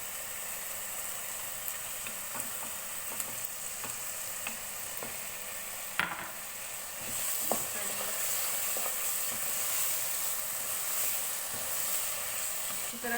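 Nuts roasting in carrot halwa in a pan. A steady, moderate sizzle carries scattered pops and a few scraping stir sounds, and it grows slightly fuller partway through. No one talks.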